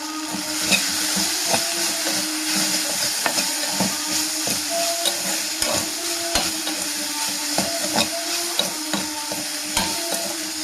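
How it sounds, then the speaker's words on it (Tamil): Okra sautés in a hot pan with a steady, even sizzle and hiss, broken by light scrapes and taps of stirring throughout, close up and without any voices. "இப்போ வந்து வெண்டைக்காயை வந்து நல்லா வதக்கி எடுத்துட்டோம்"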